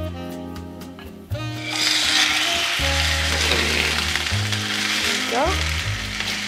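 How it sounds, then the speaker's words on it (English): Red snapper dropped into melted ghee in a frying pan, bursting into a loud, steady sizzle and crackle that fills the rest of the clip after a quieter start, with some tonal background sounds beneath. "I think the red snapper is ready to be put in the frying pan."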